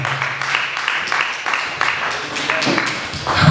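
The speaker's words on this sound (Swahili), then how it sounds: "Ninasema mchapie Yesu makofi katika jina la Yesu." A church congregation applauds for Jesus with loud, continuous rhythmic clapping throughout, with some voices mixed in underneath.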